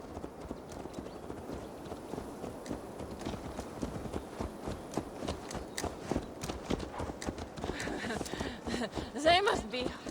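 Horse hooves clip-clop steadily in Assassin's Creed Valhalla, a brisk regular trot heard close beneath a voice speaking.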